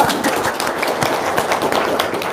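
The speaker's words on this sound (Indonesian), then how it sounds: "Tepuk tangan dong." Dense, even clapping from a crowd, loud and close, keeping a steady level throughout with no break and no voices over it.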